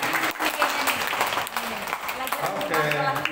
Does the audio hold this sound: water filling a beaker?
no